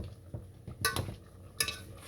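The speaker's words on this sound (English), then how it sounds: "We're gonna go ahead and we're gonna give this a stir." A spoon scrapes and knocks through mashed yams in a pot, two clattering strokes standing out over soft background noise, close and fairly quiet.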